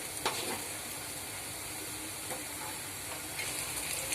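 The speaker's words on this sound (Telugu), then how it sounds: "ఇప్పుడు ఇదంతా ఒకసారి బాగా ఇలా కలుపుకోవాలి" Chili powder, coriander powder, turmeric and salt being stirred into amaranthus curry in a pan, a steady soft sizzle with a few faint scraping stir strokes, close and continuous, no talking.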